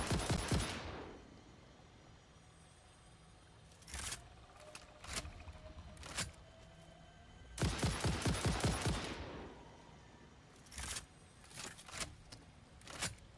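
Gunfire in the factory-building game Satisfactory comes in several separated bursts of rapid shots, each a cluster of sharp cracks, moderately loud against a quiet humming background, with no talk.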